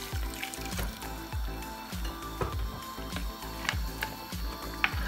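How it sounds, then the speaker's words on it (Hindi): About a glass of water pours into a pot of browned meat and potatoes for aloo gosht, a fairly quiet run of rhythmic gurgling splashes repeating evenly throughout, with no voices. "तकरीबन 1 गिलास पानी मैंने डाला इसमें।"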